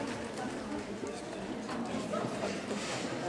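A horse's hooves clip-clop on the ground during an outdoor film shoot in Pierrefonds, France, in 2012. Faint and somewhat distant, the hoofbeats sit within a quiet, airy background.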